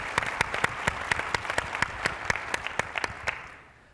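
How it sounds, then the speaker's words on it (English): An audience applauds during a legislative panel at an annual conference, with crisp, closely spaced claps standing out over a dense clapping bed. The sound is moderately loud and fades away over the final half second. "So hope we can give them all another round of applause here."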